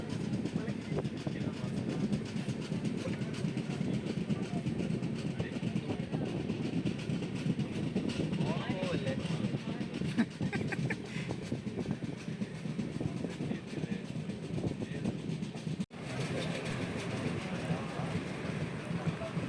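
A moving train near Kollam Junction in Kerala rumbles steadily with a continuous low roar and faint rhythmic clatter for the whole stretch, with voices murmuring faintly underneath.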